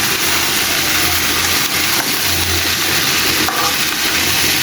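Onion and potato pieces dropped into hot oil in a frying pan give a loud, steady, close-up sizzle with faint stirring noises throughout.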